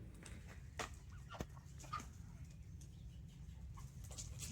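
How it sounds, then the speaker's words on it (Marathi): Pet chickens cluck softly now and then over a low constant hum, with a few sharper calls standing out near and quiet. "बघा इकडे हे पाळलेले कोंबडे"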